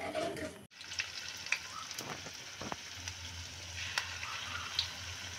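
Spinach koftas frying in hot oil in a kadai, a steady close sizzle with faint stirring clicks over a continuous bubbling hiss, no one talking.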